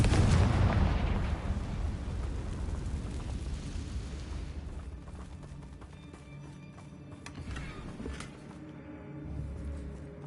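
Bombarda and Confringo spell blasts in the video game Hogwarts Legacy, a loud booming explosion at the start that rumbles and fades into crackling debris and smaller pops, with no talk.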